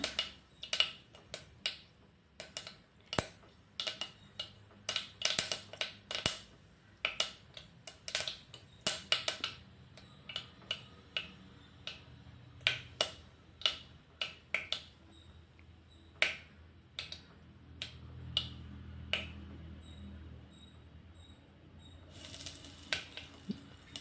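Mustard seeds splutter and pop in hot oil in a pan, a steady run of sharp, close crackles and snaps with brief quieter gaps, no voices.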